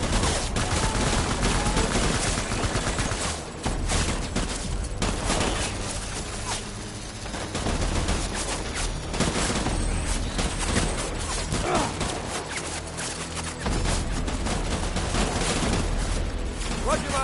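Gunfire in Death Stranding: sustained bursts of rapid shots and automatic fire crackle densely for the whole stretch, loud and close, with mechanical clatter and low booms mixed in, and a faint voice here and there.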